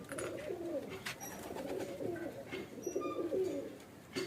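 Near, repeated low cooing from an Andhra pigeon, its rolling, wavering calls running almost continuously, with a few faint chirps and background rustle mixed in.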